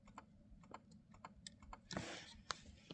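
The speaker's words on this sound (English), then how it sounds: "You can hear it clicking." A Cadillac CTS-V passenger power window gives a quiet series of irregular small clicks inside the car, soft and close, with one louder snap near the end.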